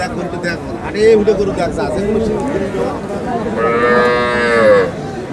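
Cattle at the Ambari livestock market in Dinajpur moo in long, drawn-out calls, near and loud, over busy crowd chatter and someone talking.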